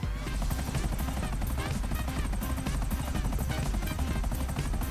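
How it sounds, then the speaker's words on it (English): A helicopter in the video game GTA 5 Online, a loud continuous rapid rotor chop with a dense low thrum and mixed game noise, sustained throughout. "I don't like helicopters."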